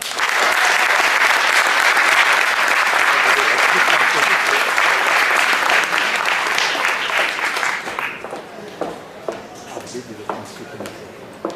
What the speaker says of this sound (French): Je vous demande de faire un tonnerre d'applaudissements pour la directrice de la section féminine